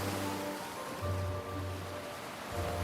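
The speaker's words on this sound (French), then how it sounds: "bercé par le doux murmure des vagues." Gentle sea waves murmur in a soft, continuous wash, with a low rolling swell rising and falling alone.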